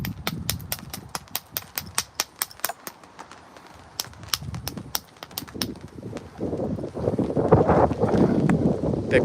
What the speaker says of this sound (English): Big gust of wind again.